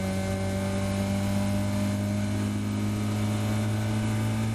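Caterham race car on the Silverstone Grand Prix Circuit: a loud, steady engine drone with a sustained high-rev tone heard from onboard, constant throughout with no pauses.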